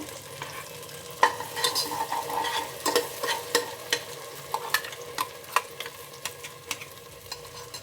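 Thick ground masala paste for vegetable kurma sizzles softly in hot oil in a pressure cooker as a spoon stirs and scrapes in irregular bursts, close up.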